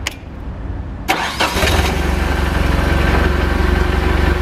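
A Caterpillar GP25K sit-down forklift is started with the ignition key: a brief crank, then the engine catches and settles into a loud, steady, throbbing idle close by.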